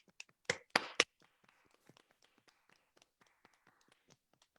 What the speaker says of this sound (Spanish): Les pedimos a los asistentes al Zoom que abran su micrófono para agradecerle con un aplauso